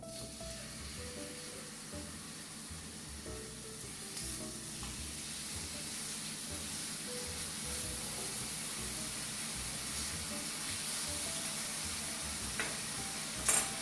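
Chicken frying in a pan for a keto sandwich, a steady close sizzle and hiss of oil with a low bubbling undertone, continuous and even, with no talking.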